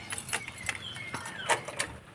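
Keys jingle and click while being turned in a lock, a run of bright metallic rattles and small taps lasting about two seconds, close by with no voice.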